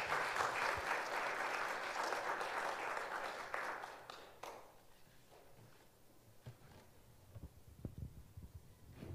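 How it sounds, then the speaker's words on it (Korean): Audience at a church family-building event applauds to welcome a lecturer, a dense wash of clapping for about four seconds that then thins out into scattered room noise and light footsteps. "우리 이현숙 강사님 박수로 모시도록 하겠습니다"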